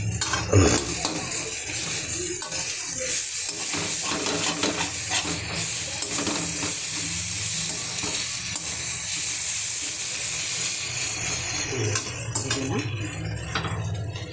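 Rui fish kalia cooking in a pan with little oil, a continuous sizzle of frying broken by scraping and clinking of a spatula being stirred against the pan, close and steady.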